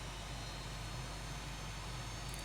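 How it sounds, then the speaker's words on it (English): MB-339PAN jet trainer in Microsoft Flight Simulator: a steady jet engine roar with a low droning hum, constant and close, holding level throughout. "the engine should come to life."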